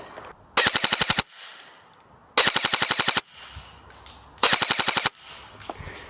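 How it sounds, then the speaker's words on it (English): Three bursts of full-auto fire from an airsoft gun powered by a 7.4 volt LiPo battery, each a loud, rapid string of about seven or eight shots with short quiet gaps between. "Let's try full auto and see what we get."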